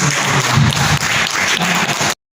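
Audience applause at a tourism workforce competency certification event in Kolaka, with loud, dense clapping and a voice underneath that cut off abruptly after about two seconds.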